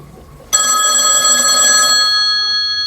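A telephone rings loudly and close, a steady electronic ringing tone that starts abruptly and holds for about two seconds before fading into the line, with no talk.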